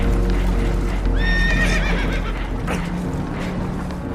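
Spooked horses in Red Dead Redemption 2 whinny shrilly over a loud, steady rumble with some clopping, with a rising neigh in the middle and restless noise continuing around it.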